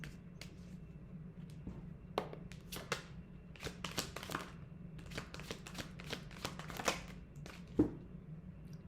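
Tarot cards are shuffled close up with quick, irregular riffles and taps in bursts, fairly quiet, with no voices.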